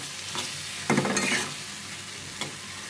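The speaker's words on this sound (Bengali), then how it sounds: "এটা বারবার নেড়ে নিতে হবে নাড়া বন্ধ করা যাবে না বারবারে নেড়ে দিয়ে ভাজিটা করে নিতে হবে" Tomato bhaji stir-frying in a pan, with a steady hiss of sizzling oil and a louder scraping stir near the middle, plus two lighter scrapes before and after, close and moderately loud with no talking.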